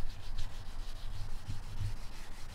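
A Porsche Cayenne Turbo headlight lens is hand sanded in horizontal strokes, giving a close, rhythmic, gritty rubbing that repeats with no pause.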